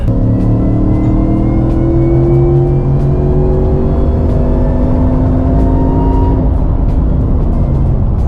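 A tuned Ford F-150 pickup truck of about 725 wheel horsepower roars loudly as it accelerates hard, its pitch climbing steadily and then dropping through gear changes. No voices.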